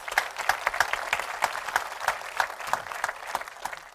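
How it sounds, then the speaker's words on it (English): A town hall audience at an Arizona innovation and technology event breaks into steady applause, dense overlapping claps with sharper individual hits throughout, moderately loud and sustained with no talking. "Let's give them a nice warm round of applause."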